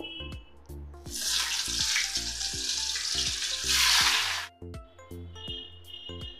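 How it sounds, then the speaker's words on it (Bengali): Pieces of pointed gourd (potol) frying in oil in a pan give a loud, close, hissing sizzle that swells and then fades, over a background of steady low tones, with no speech. "প্রথমে আমি পটলটাকে একটু ভেজে নেব।"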